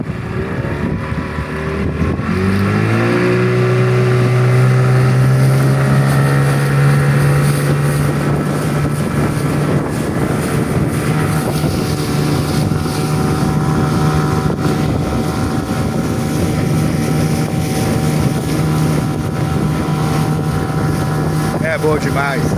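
A motorboat engine drones steadily and loud throughout a ride on open water, with a low hum that rises in pitch early on, wind buffeting the microphone, and a voice speaking over the noise.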